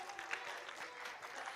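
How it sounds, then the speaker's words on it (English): A seated audience at a Toastmasters speaking event claps steadily for a performer, a dense, continuous spatter of many hands heard from a moderate distance without a break. "let's give her a round of applause"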